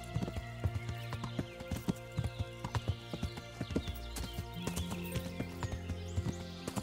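Horse hooves clip-clop in a steady rhythm, with occasional whinnies and neighs over a layered soundscape from the video game Kingdom Come: Deliverance.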